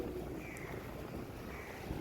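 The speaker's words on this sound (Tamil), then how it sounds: "நல்லா கடற்காற்று அடிக்க நல்லா இதை இதமாக இருந்துச்சு" A steady sea breeze blows at a beach, a soft continuous wash of wind noise with no clear gusts and no talking.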